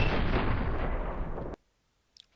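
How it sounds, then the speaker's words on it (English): DShK heavy machine gun firing in an animation of its mechanism: a dense, loud roaring burst lasting about a second and a half that cuts off abruptly into silence, followed by a couple of faint clicks. "Fires off a round, which rotates that, pulls the belt through it."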